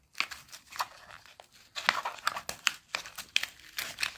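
Hard plastic crackles and tears as the back is pried off a cheap solar light-up bottle stopper, producing a close run of crunchy cracking and creaking noises.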